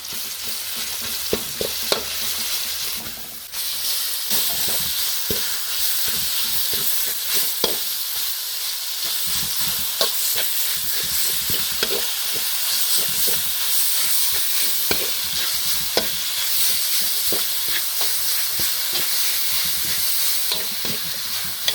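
Minced pork stir-frying in a hot pan with garlic and oil, a steady loud sizzle and hiss broken by repeated scraping clicks of the spatula, with no talking.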